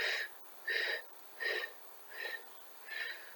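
Breath pushed out during a Pilates exercise, five rhythmic breathy exhales about 0.7 seconds apart, close and moderately loud, with quiet pauses between them.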